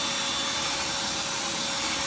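A power drill set to low speed whirs steadily to mix wet material with a little water, a constant mid-level hum with no breaks and no voices.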